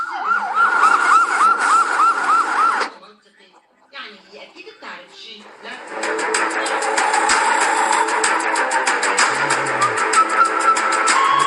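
An ambulance siren wails loudly in a fast, repeating up-and-down pattern, then drops out briefly. It returns as a dense, continuous blare with traffic noise mixed in.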